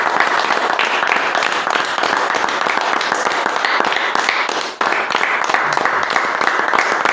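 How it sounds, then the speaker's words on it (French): A church congregation at an assembly in Ndiengdam applauding together, a loud, steady wash of many hands clapping that continues without a break, with a short dip partway through. "Applaudissons encore pour le Seigneur."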